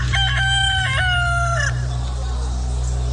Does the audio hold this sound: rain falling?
no